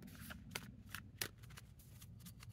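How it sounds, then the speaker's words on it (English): Chess pieces shuffled by hand on a chess board, giving a quiet run of soft clicks and clacks in an uneven rhythm, with a few sharper knocks standing out, close and low in level. "we'll just shuffle the pieces here"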